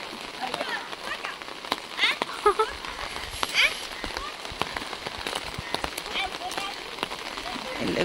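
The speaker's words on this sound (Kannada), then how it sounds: "ಅಂಡ್ ಮಳೆ ಸ್ಟಾರ್ಟೇ ಆಗೋಯ್ತು." Rain patters across an open hilltop by a Durga temple, a steady hiss broken by scattered drops and knocks, with voices and movement mixed in.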